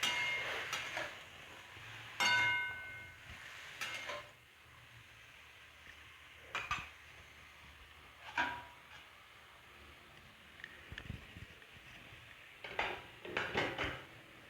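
A spatula stirs bottle gourd in a cooking pan, giving scattered, quiet clinks and scrapes against the metal with long pauses between strokes and no voices.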